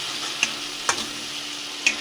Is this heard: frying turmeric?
yes